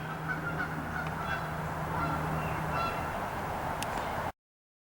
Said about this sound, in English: Oh, and the geese are flying.